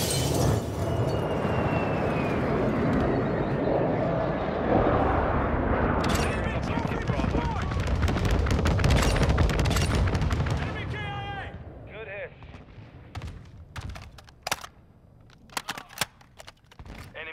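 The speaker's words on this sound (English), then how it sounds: "Inbound for bombing run." Aircraft bombing run in Call of Duty: Modern Warfare II, heavy rumbling blasts rolling continuously and loud, then fading into scattered sharp gunshots and distant bangs, with radio voices over the mix.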